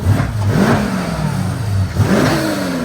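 A wrecked 800-horsepower Mercedes-AMG engine revs twice, each blip rising sharply and falling back to a rough idle, loud and close, with no talking over it.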